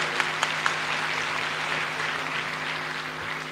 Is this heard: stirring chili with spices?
no